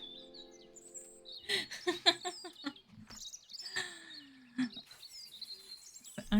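Bird chirps and warbling calls in the Botany Manor game, with several bright bursts and a sliding whistle spread through a quiet scene, no talking.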